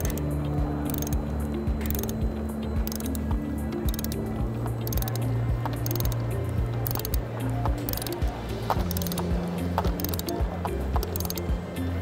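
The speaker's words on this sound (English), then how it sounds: "then with a ratchet, turn it in, and it will be cutting its way in." Ratchet wrench turning a thread repair insert into an injection molding machine, a steady run of close, loud pawl clicks in repeated strokes with a low mechanical hum beneath.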